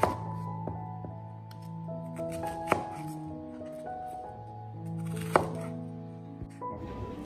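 Knife dicing an onion into cubes on a wooden board, made while cooking steamed fish with garlic; a steady series of close crisp chops with a couple of sharper cracks, under quiet background music and without speech.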